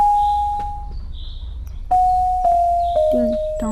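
A doorbell in the Animal Company video game rings out in clear electronic ding-dong chimes, several bright tones in sequence, loud and close with no speech over them.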